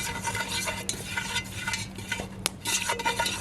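Curry paste for Panang chicken stirred as it fries over a CampQube fire pit, with steady close sizzling broken by scraping utensil strokes against the pan.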